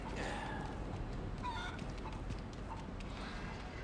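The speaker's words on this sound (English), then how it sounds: "I hear another chicken." Chicken clucking in the video game Resident Evil 4 Remake, a few short soft clucks over a steady low ambient rumble, faint and fairly distant.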